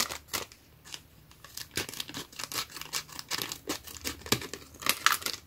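Scissors snip through a paper window envelope, cutting close along the edge in quick irregular crisp snips and rustles, close and fairly quiet, with no talking over them.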